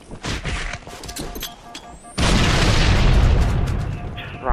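A grenade explosion in the video game Halo 3, a sudden loud boom at about two seconds that leaves a long roaring rumble, with game sounds and brief voice activity before it.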